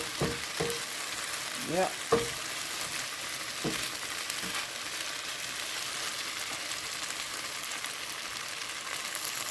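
Leftover pho rice noodles and napa cabbage sizzle in a stir-fry pan, a steady hiss of frying with a few scrapes and clinks near the start and one brief spoken word.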